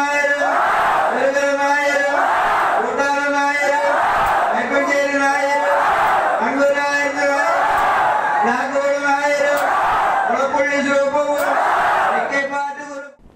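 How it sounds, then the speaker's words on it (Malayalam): At the night flag hoisting of the Chinakkathur Pooram temple festival, a crowd raises loud chanted shouts in a steady repeating rhythm, one collective cry about every two seconds, until it fades at the end. "ഭഗവതിക്കാവിലെ ആചാരത്തികവും തട്ടകത്തിൻ്റെ ആർപ്പുവിളികളും ഏറ്റുവാങ്ങിയായിരുന്നു കൊടിയേറ്റം കഴിഞ്ഞ രാത്രി 11 നടന്നത്"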